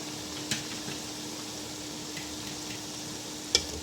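Boiled beef cubes frying with masala and mashed tomatoes make a low, steady sizzle, close and quiet, with two sharp clatters of a utensil against the pot near the start and the end.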